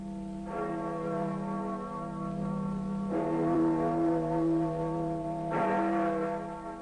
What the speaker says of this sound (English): The tolling of bells throughout Rome